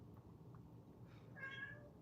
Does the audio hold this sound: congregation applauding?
no